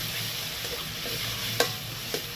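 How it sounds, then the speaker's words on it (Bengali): Green chili, ginger, garlic and shrimp sizzle steadily in a hot pan, a dense continuous hiss with two brief sharp clicks of a utensil near the end. "তারপরে কাঁচা লঙ্কা আদা সব রসুন এগুলোকে দিয়ে দেবো এবার এটাকে দিয়ে ভাজতে হবে ভালো করে"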